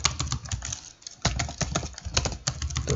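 Rapid computer keyboard typing while code is entered, a close, dense run of clicking keystrokes with a brief pause near the middle.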